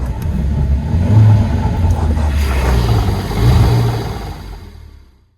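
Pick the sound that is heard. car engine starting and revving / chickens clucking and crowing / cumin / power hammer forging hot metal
car engine starting and revving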